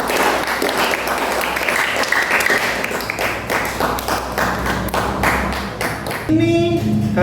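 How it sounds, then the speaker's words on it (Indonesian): Students in a classroom applaud a group, with a burst of hand clapping running for several seconds before it cuts off into a short ringing tone. "beri tepuk tangan untuk kelompok yang satu"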